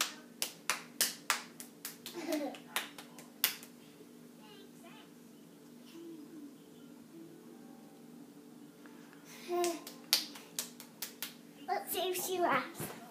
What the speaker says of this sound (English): Clap your hands and see baby claps her hands now.